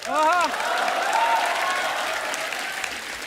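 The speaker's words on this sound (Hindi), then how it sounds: "आप सबकी जोरदार तालियां" Studio audience applauding on The Kapil Sharma Show, a loud, dense burst of clapping and cheering that swells at the start and carries steadily throughout, with a few whoops and a voice briefly rising above the crowd.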